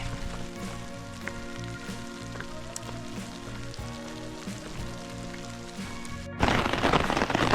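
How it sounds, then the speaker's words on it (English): Steady rain falls around a hiker on the Laurel Highlands Hiking Trail, a broad even patter that swells suddenly louder and harsher near the end. "rain's starting up again, so hopefully it's not too bad"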